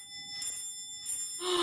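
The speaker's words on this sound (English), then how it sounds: "1944, when our doorbell rang." A doorbell rings in a short, bright electronic ring, two bursts with a faint steady tone between, quiet and alone.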